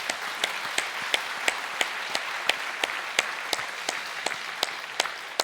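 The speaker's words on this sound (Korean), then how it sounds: "감사와 영광의 박수를 해주시기 바랍니다." A church congregation applauds at a worship service, with a steady, even wash of many hands, some louder individual claps standing out in a regular rhythm throughout.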